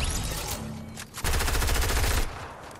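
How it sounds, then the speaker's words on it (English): Rapid bursts of automatic gunfire in a Fortnite match, a sustained loud rattle of shots that pauses briefly and then resumes as a dense, continuous volley before easing off. "Oh, he shot me."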